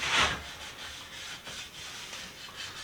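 Sandpaper rubs across a wooden mid-century modern coffee table, a louder scrape at the start followed by steady, moderate back-and-forth strokes close by.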